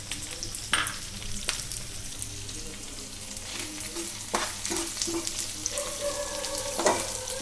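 Onions and red chillies sizzle in a pan for paneer butter masala, a continuous close frying hiss broken by several sharp stirring scrapes, with no talking.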